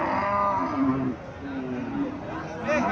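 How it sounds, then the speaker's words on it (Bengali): A native Bangladeshi cow at a cattle market moos in long, low, drawn-out calls, loud and close, while people talk nearby and a general market murmur continues underneath. "এখানে একটা লম্বা চূড়া গাভী দেখা যাচ্ছে, দেশি গাভী, লম্বা চূড়া আছে"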